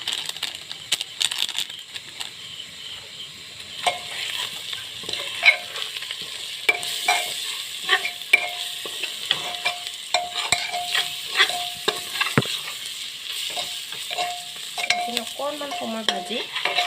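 Spices with coriander powder and chili powder fry and sizzle in a pan for a mutton curry, with steady crackling and frequent scraping stirs of the spoon close up, no voices.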